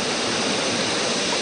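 River water rushes in a steady, loud wash at a riverside where children dig sand from the riverbed, a dense continuous roar with no voices.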